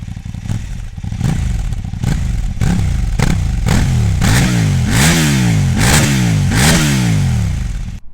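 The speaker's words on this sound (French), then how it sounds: "il fait une super belle sonorité ce moteur" A Kove 800X GT motorcycle engine revs repeatedly in loud, close rising-and-falling sweeps, the blips growing stronger and quicker before the throttle is released, with no talking.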